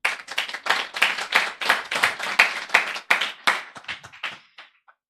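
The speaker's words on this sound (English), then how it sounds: "You can please make the clap louder." An audience claps at a university lunchtime talk on feminism. The applause is dense, steady and fairly loud, then thins to a few scattered claps and fades out near the end.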